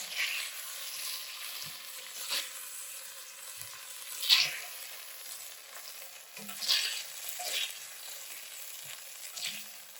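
Beef browning in a pot for a Creole daube, a soft, steady sizzle with occasional louder crackles and pops, fairly quiet and close, no voices.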